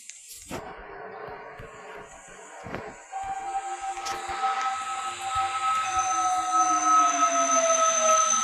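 A train rumbles steadily with a rising hiss and a high squealing whine from the wheels, continuous and fairly loud throughout.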